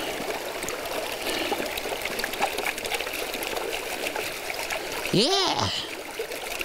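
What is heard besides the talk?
material dumped with water into a gold pan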